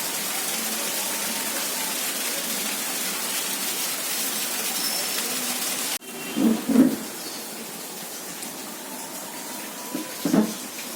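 Heavy rain falling outside during a storm, a dense continuous hiss that briefly drops, followed by a few low booming rumbles later on, with no voices.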